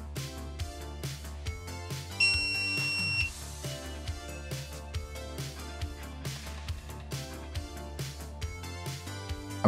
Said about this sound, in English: I'm assuming that was a good beep.